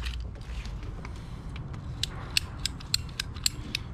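PVC water pipe being cut with a hand cutter, a series of sharp ratcheting clicks and creaks that grow more frequent toward the end, close by and fairly quiet.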